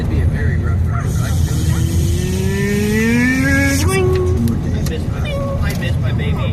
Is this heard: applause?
no